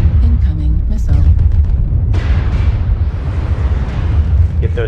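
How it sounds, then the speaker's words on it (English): Missile strike explosion in a video game: a loud, roaring blast erupts about two seconds in and rumbles on, following a brief burst of radio chatter and noise. "Incoming missile."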